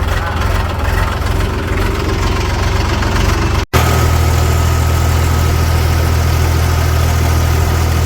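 A tractor engine runs steadily close by, a loud, deep, unbroken diesel rumble with a strong low throb and one brief dropout partway through.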